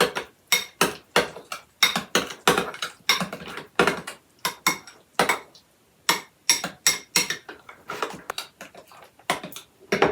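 A spoon or utensil clinks and scrapes against a bowl as Reuben sandwich ingredients are mixed with Thousand Island dressing, making close, loud, rhythmic bursts of clatter separated by short pauses.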